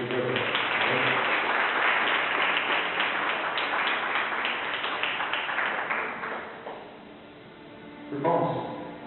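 A church congregation claps together during a communion service, a dense sustained wash of clapping that fades out, followed by a voice near the end.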